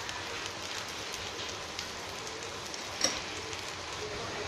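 Rava adai frying in oil on a nonstick pan, a steady soft hiss and crackle of sizzling with a single faint click partway through, no voices.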